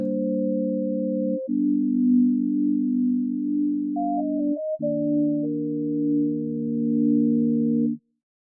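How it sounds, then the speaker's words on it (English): A lo-fi looping electronic melody of smooth, sustained synth tones with tremolo and phaser holds steady chords under a brief higher line, then cuts off abruptly near the end. "Let's add a tremolo to the loop to give it some motion and a feeling of distance."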